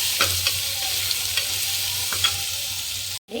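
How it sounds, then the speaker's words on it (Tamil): Carrots and beans sauté in oil in a pan, a close, even sizzle with a few soft stirring scrapes, cut off briefly near the end; no one speaks. "இது வந்து நல்லா எண்ணெயிலே வதக்கூடமாட்டேன் கேரட்டையும் பீன்ஸும் நல்லா வதக்கிக்கலாம்"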